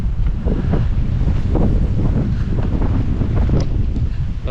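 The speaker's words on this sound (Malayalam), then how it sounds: "ഒരു രക്ഷയില്ലാത്ത കാറ്റാണ്." Strong wind roars without a break through dense trees on the Agasthyarkoodam mountain trail near Bonacaud, Vithura, buffeting the microphone loudly throughout, with no talking.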